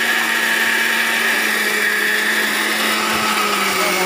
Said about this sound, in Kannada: ರುಬ್ತಾ ಇದ್ದೀನಿ।